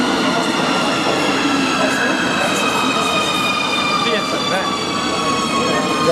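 An automatic metro train in Nuremberg runs along the track with a steady rumbling roar, high whining tones and occasional wheel squeal, loud and continuous from up close.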